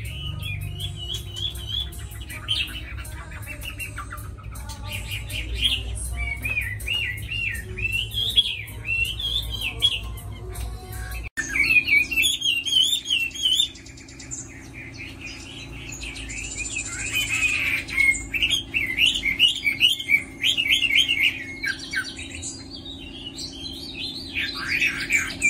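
A caged Chinese hwamei songbird kept at home sings loud, varied warbling phrases and rapid chirps, close by and continuous, with a steady low background hum partway through.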